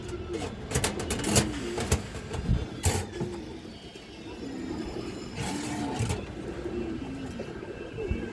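Pigeons coo in a loft of breeding birds, including a large, healthy laying hen, with soft repeated low coos throughout, overlapped by faint chatter and a few sharp bursts of noise.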